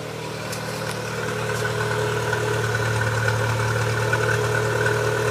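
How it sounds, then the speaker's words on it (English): A car engine idles steadily after a Bardahl oil additive has been added to free up a lifter, giving a constant close mechanical hum with a faint ticking knock and no talk. "Let that run for a couple minutes and let that Bardahl get into it."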